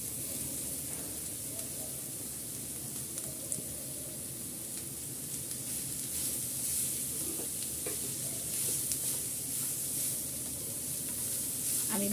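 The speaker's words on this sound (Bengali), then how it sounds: "আমি ভালো করে পেঁয়াজের সাথে মিক্স করে নিচ্ছি।" Grated carrot and onions sizzle steadily in a frying pan while being stirred, with a constant hiss and intermittent scraping and clinking from the spoon, close up.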